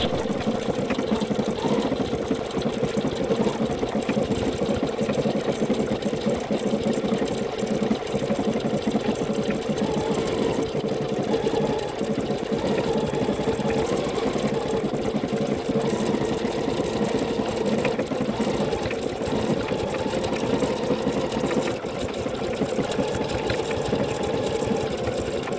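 A Bernina Chicago 7 embroidery machine stitching, played at four times normal speed, makes a dense, continuous mechanical whirr and rattle that runs unbroken for the whole stretch with no talking.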